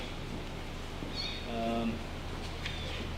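Tiny abandoned kittens chirp and mew in a winery, a few short high-pitched calls rising over the steady hum of cooling equipment and room noise.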